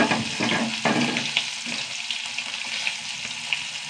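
Shallots and mustard seeds sizzle and crackle in hot coconut oil in a pan, a steady close frying hiss with small pops and stirring scrapes throughout.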